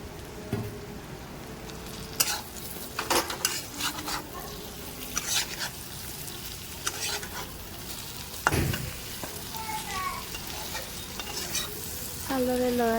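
Taro pieces fry and sizzle in sautéed spice paste, with repeated sharp scraping stirs of a spatula against the pan and a steady crackle underneath; no one speaks.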